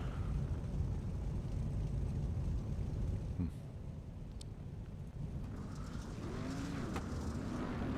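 Street stock race cars run pace laps at Volusia in a sim racing game, a continuous low engine drone with shifting pitch sweeps as cars pass, fairly faint and steady beneath an announcer's commentary.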